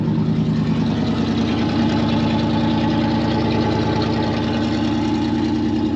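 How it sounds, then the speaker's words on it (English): A 1987 Chevy Silverado pickup idles loudly through a small aftermarket muffler, a steady, throbbing rumble close up with no change in pace. "Pretty sure the previous owner put a little muffler on it, so man, that's a little loud."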